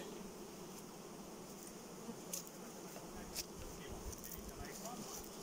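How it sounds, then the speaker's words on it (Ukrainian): A swarm of Ukrainian steppe honeybees leaving a hive in an apiary makes a dense, continuous buzz with scattered louder passes close by, with a voice faintly audible beneath. "Оце ось рій вилетів він."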